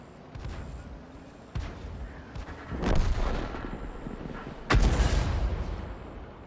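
Two heavy artillery blasts from a 105 mm leFH18B2 self-propelled gun in World of Tanks, the first around three seconds in and a louder one near five seconds, each booming and rolling off over low battle rumble.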